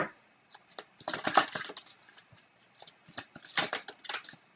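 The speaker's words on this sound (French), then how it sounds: "Je vais vous sortir une carte supplémentaire." A tarot card drawn from the deck, heard as a run of close, crisp papery swishes and snaps in uneven bursts, with no voices.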